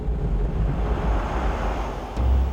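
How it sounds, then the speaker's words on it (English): A continuous loud roar of tyre and wind noise, steady and broadband, heard from inside a 1994 Land Rover Defender 90 at highway speed, with no voices. "the amount of tyre noise and wind noise combine to make the ride almost deafening"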